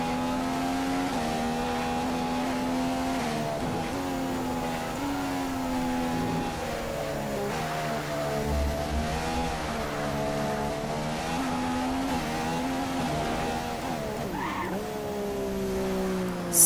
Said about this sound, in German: ich gebe ja mittlerweile Gas, also jetzt versuche ich mal schneller zu fahren als bisher